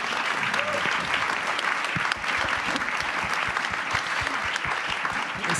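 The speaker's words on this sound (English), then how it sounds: "I think you can give them an applause." Loud, continuous audience clapping for a panel at a humanitarian congress in a Berlin concrete hall, dense and even for several seconds with faint voices underneath.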